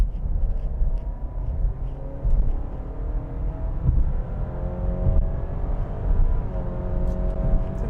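Hybrid petrol engine of a Honda ZR-V in sport mode kicking down under hard acceleration, with simulated gear shifts: a steady droning rumble whose pitch rises and steps between fake shifts, heard from inside the cabin with no talking.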